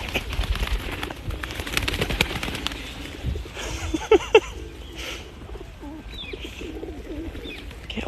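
A pigeon perched on a person's shoulder outdoors in London, giving a few soft coos and brief flutters that come through faintly over steady street and wind noise.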